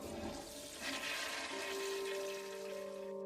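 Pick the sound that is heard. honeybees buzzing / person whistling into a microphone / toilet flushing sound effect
toilet flushing sound effect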